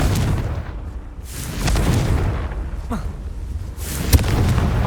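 Explosion spell blasts in the Hogwarts Legacy video game, deep rumbling booms with sharp bursts around the middle and near the end, a low roar continuing between impacts.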